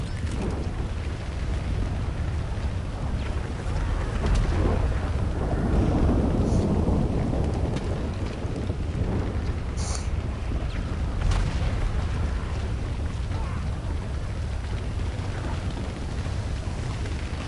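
Rumbling grenade blasts in GTA Online roll through a dense, noisy game soundscape, with a swelling low boom in the middle and further thuds later, sustained and loud throughout without clear separate bangs.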